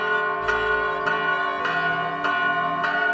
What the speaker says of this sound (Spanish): Escucha, Antonio, ya es mediodía y las campanas nos invitan a detener un momento nuestras labores